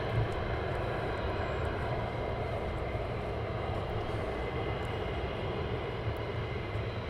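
Military aircraft at RAF Lakenheath, with a KC-135 on final approach, giving a steady, broad jet roar that holds at a constant level throughout, distant but filling, with no voices.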